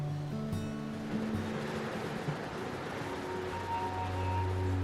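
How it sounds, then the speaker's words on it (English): Sea waves wash steadily at night below a quiet seawall town in the Peloponnese, Greece, a soft continuous surf wash with faint low tonal hum and occasional distant clinks, no voices. "all is quiet, but for the magic sound of the sea"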